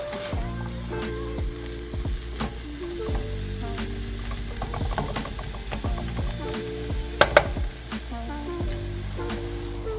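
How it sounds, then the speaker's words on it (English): Chopped sausage fries in a pan while being stirred to mix, giving a continuous close sizzle broken by repeated scraping strokes and small pops. "So I want the flavor to get into the sausage as well. So we're just going to mix that all up."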